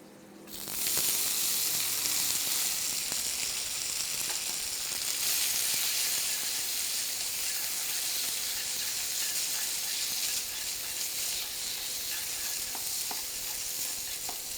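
Vegetables stir-frying in a pan before noodles go in, a steady, loud, dense sizzle with stirring scrapes that starts abruptly after a moment of quiet and holds throughout, with no voices.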